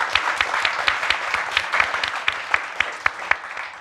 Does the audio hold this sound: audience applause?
yes